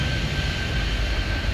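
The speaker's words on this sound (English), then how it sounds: "we're gonna wait until this plane gets past the" In the Airport Madness 3D video game, an airplane taxis past at an airport, giving off a steady, continuous engine roar and rumble that holds at an even level from start to finish.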